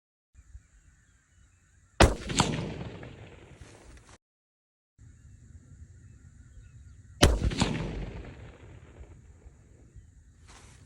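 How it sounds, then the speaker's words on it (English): A 7mm PRC rifle fires two loud, sharp gunshots at a target, about five seconds apart. Each shot carries a booming tail that echoes off the surroundings before fading into quiet outdoor background. "I'm going to shoot the top left target right below my last group."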